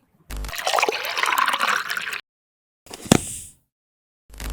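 Liquid cocktail poured into a cheap plastic cup, a close steady trickle lasting about two seconds, followed by a short splash and gurgle after a brief pause.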